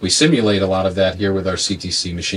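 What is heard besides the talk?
No everyday noise stands out behind the speech.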